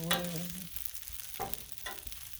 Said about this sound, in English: A little bit more stirring